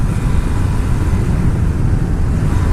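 A BMW motorcycle engine runs steadily at close range, a dense continuous low rumble at even volume throughout with no voices.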